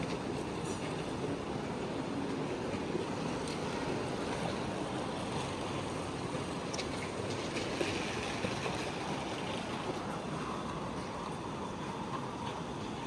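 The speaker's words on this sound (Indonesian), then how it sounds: "ini kereta kita ya, Chongqing B ke Lanzhou D151" Chinese D151 passenger train from Chongqing to Lanzhou standing at a busy station, a steady broad rumble and hiss of the idling train filling the platform, continuous and fairly loud with faint crowd noise.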